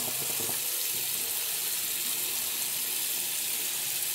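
Tap water runs steadily into a sink while the face is wetted before a shave, a continuous close hiss and splash with no talk.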